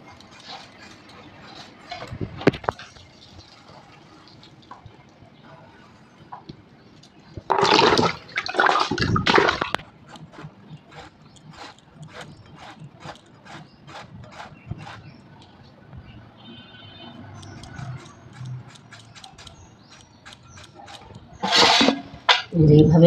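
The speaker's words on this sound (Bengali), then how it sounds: "লাউটাকে আমি যত দূর সম্ভব ছোট করে কেটে নেওয়ার চেষ্টা করব" A knife chops a tender bottle gourd into small thin pieces on a board, giving repeated short cutting taps in irregular bursts, with louder scraping moments and quiet gaps between.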